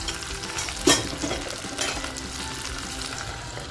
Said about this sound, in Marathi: असं छान मंद आचेवर हे वांग शिजून देणार आहे